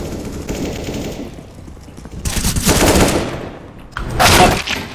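Gunfire breaks out in CS:GO in loud, rapid automatic bursts. Crackling shots come in two or three clustered volleys separated by brief lulls, with the last burst the loudest.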